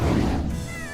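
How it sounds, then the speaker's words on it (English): A cat and a kitten meow on a street, a loud close cry with a thinner, higher meow trailing off at the end. "Cat and kitten."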